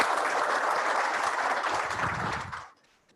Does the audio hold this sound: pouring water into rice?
no